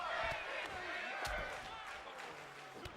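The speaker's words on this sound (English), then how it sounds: "The crowd chanting "break his femur."" A wrestling pay-per-view crowd chanting together, a dense, roaring wall of voices with rhythmic shouted bursts and a few sharp thuds, heard from within the arena and fairly steady throughout.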